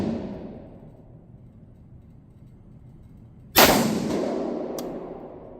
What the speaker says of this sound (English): All right, first shots.